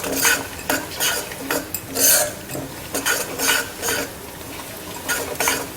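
Cashews, almonds, raisins, coconut and pistachios are stirred as they roast in a pan for suji halwa, giving repeated scraping strokes of a spoon against metal in an uneven rhythm.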